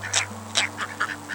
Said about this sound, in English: Don't forget to bring something to feed the very friendly ducks.